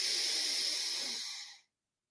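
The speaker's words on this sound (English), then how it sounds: "Let's take a couple of deep breaths to begin. In and out through the nose" Deep breath drawn in and out through the nose during breathwork training for mountain athletes, a steady close airy hiss lasting about a second and a half before falling silent.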